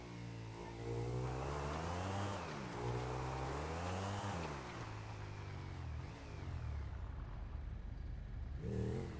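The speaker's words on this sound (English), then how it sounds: "I hear a car." Car engine in a video game revving and accelerating up close, its pitch rising and falling in long sweeps for most of the stretch before easing off and picking up again at the end.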